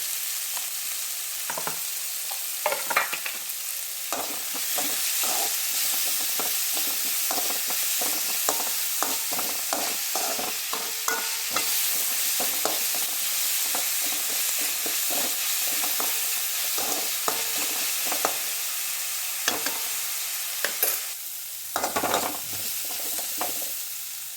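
Onions sauté in a pan for a chicken curry, giving a steady close sizzle and frying hiss throughout. Stirring scrapes and clacks are scattered across it, and no one speaks.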